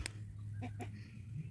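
Chickens in a nest on a farm in Ceará, Brazil, give a few short soft clucks over low steady background noise.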